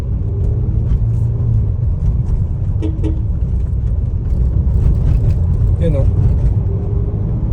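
A car on a test drive, its engine rumble and road noise running steady and close throughout, with a person talking briefly over it.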